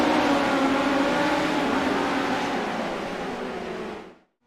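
Race cars battle for position at Volusia in iRacing, a loud dense engine roar with layered high-revving tones that holds steady, then fades and cuts off abruptly at the end.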